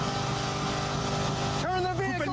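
A car engine runs steadily during a police traffic stop in the United States, a constant motor drone heard behind an officer's shouted commands.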